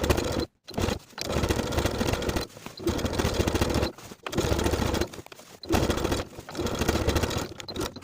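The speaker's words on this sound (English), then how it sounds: "I'm going to stitch in the ditch from the main seam on the outside all the way around the waistband" A sewing machine runs in long steady bursts, stitching in the ditch around a waistband on palazzo pants, close and loud with brief pauses between runs.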